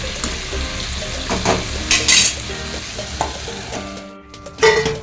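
Green chili and dingri vegetable cook in a pan, giving a continuous sizzle broken by spoon stirring and scraping, with a few metallic clinks of utensil against pan, close and fairly loud.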